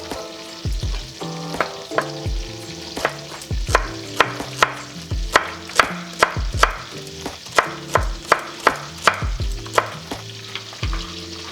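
Celery sautéing in a pot as the base for clam chowder gives a steady, close sizzle broken by a regular run of sharp spoon knocks and scrapes against the pot, roughly one each second.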